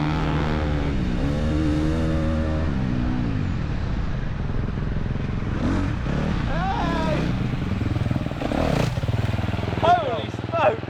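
A 500cc two-stroke motorcycle on a fast-lap track revs hard through rising and falling engine whines, loud and close, with a commentator talking over it throughout.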